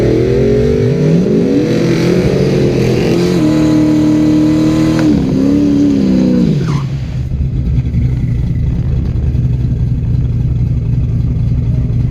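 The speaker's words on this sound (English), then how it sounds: "The red car does what it does, picks the tires up about 6, 8, 10 inches off the ground" Drag race car launching hard down the track, a loud engine roaring and climbing in pitch through gear changes before receding into distant rumble.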